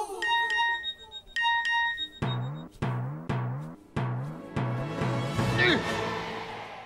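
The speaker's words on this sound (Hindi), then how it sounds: "मैसेज आया है।" A phone chimes a message notification: a few bright repeated electronic tones, then a run of plucked, descending ringtone notes, loud and close with no one speaking.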